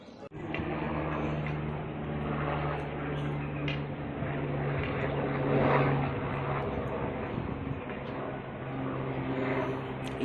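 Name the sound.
helicopter flying to Sanjhi Chhat, Vaishno Devi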